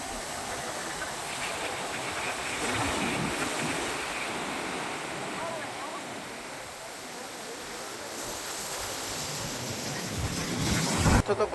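Sea waves crash and wash up at Arjipalli beach, a loud, steady roar of surf close by with gusts of wind buffeting the microphone.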